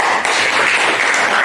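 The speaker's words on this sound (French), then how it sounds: "Vous pouvez vous applaudir" At a diploma ceremony in France, graduates applaud themselves with a steady, dense wash of many hands clapping close by, loud and unbroken throughout.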